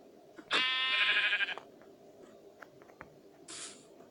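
Minecraft sheep bleating in survival gameplay: one loud, close, wavering bleat, then a quieter short one a few seconds later, over faint background clicks.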